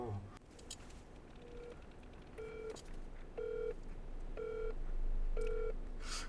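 A phone number is punched in on a keypad as a run of five or six short electronic beeps, evenly spaced, clear against quiet room noise with no talking.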